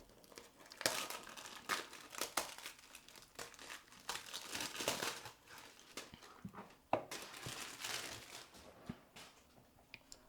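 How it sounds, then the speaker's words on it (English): Nylon wrap being torn and crinkled off a T900 Ultra 2 smartwatch box, close and fairly quiet, with repeated crackling rips and rustles through the whole stretch. "So tear the nylon"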